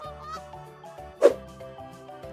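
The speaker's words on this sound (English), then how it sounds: "Can you see this large bird with loud honking calls? It's called goose." Goose honking over a farm-themed backdrop with steady tonal background music, with a loud honk partway through and another right at the end.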